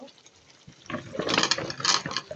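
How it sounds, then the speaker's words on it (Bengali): Cut brinjal pieces tumble into a wet, simmering curry of tomatoes, making a close, rising splash and slosh that builds over a couple of seconds after a quiet start, with no speech. "এখন আমি এর মধ্যে যে কাটা বেগুনগুলো দিয়ে দিব।"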